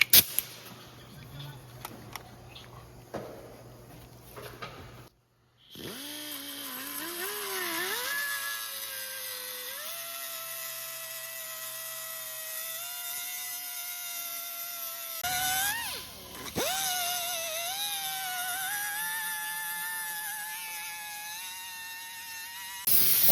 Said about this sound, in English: We're gonna now cut this outer tie rod end.